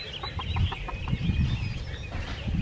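Hens clucking in a backyard coop, a steady run of short, soft clucks close by over a busy low rumble of background noise, with no talking.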